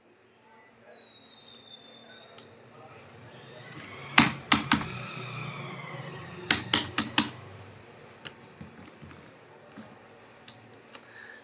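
Computer keyboard keys struck in Tally Prime accounting software, two quick bursts of three or four sharp clicks each, close and crisp over quiet room tone, followed by a few scattered lighter taps.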